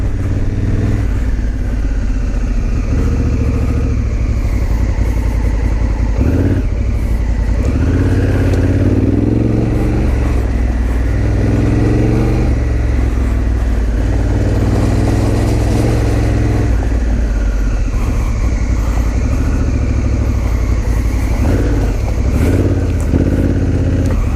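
A Honda Africa Twin motorcycle engine drones continuously while riding on dirt, loud and close, with shifting revs, wind rush and occasional clatter over rough ground.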